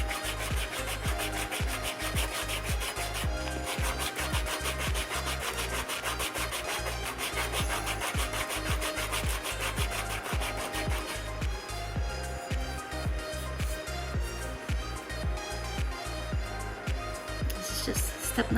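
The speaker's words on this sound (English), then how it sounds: "They go through a lot of sanding." Wooden crochet hooks are sanded in a fast, steady back-and-forth rasping rhythm that continues close and loud throughout, with no pauses.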